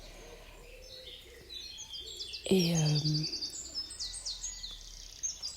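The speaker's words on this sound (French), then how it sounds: "j'écoute les oiseaux" Birds singing outdoors at dawn, with thin high chirps and trills scattered throughout, a louder cooing call in the middle, and a faint voice briefly heard.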